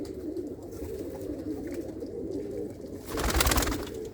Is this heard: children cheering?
no